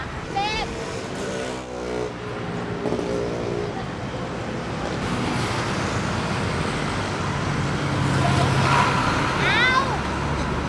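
Buses and other traffic pass along a busy Bangkok street in a steady roar that swells louder over time, with a few brief horn-like tones and voices in the background.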